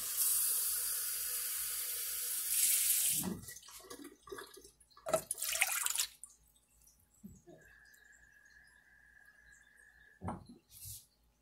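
Tap water runs into a measuring cup for a meal, a hissing stream that stops after a few seconds. Then come clinks, brief splashes and a short spurt near the end, close and fairly quiet.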